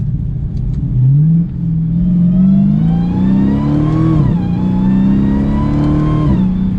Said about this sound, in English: You can hear that supercharger whine.